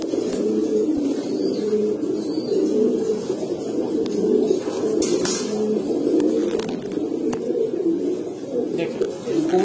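Old-line pigeons, including Bagha-headed birds, coo in a constant low rolling chorus up close, with occasional soft clicks and chirps; a voice speaks faintly at times.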